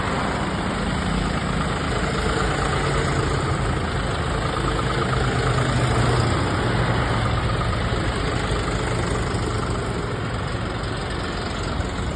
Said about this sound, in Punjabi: ਸੋ ਟਰੈਕਟਰ ਦਿਖਾਉਣਾ ਜੀ ਅੱਜ ਤੁਹਾਨੂੰ ਸਵਰਾਜ 963